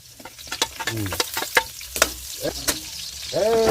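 Onions sautéing in hot cooking oil, with crackling sizzle and bursts of stirring scrapes that come unevenly and close, with no talking.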